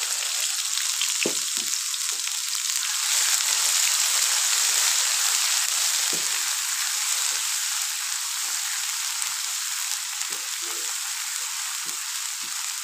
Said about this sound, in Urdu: یہ جی ہم نے تیل رکھا ہوا تھا پکوان کا، ہری مرچی، لہسن اور ادرک کوٹ کے رکھا ہوا تھا، ڈالتے ہیں اس میں